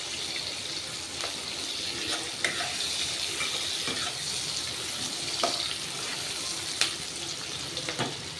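Onion fries in a small amount of oil in a pan with a continuous soft sizzle, broken by occasional spatula clicks and scrapes.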